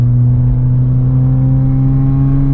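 A Mk4 Volkswagen Bora wagon with its muffler deleted drones loudly and close at a steady, raw exhaust note, holding nearly constant pitch with no talk over it.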